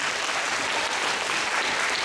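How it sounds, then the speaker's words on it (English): Brief, dense round of audience applause for a school trombone player, steady clapping filling the whole two seconds. "How about a wonderful round of applause for Mr."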